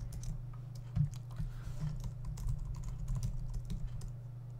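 Keys tapped on a computer keyboard while working in the Unity3D game editor, a light, irregular run of soft clicks nearby under a steady low hum.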